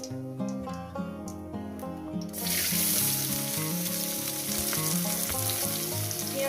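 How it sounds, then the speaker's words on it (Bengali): Onion and spices frying in a pan for a poppy-seed omelette dish, a steady loud sizzle that swells after a couple of seconds and continues under background music. "একটু কয়েক সেকেন্ড ভেজে নেব"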